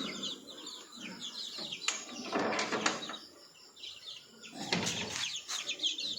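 Native chickens and cockerels in a pen chirp and call, with bursts of wing flapping and rustling close by over a steady outdoor background.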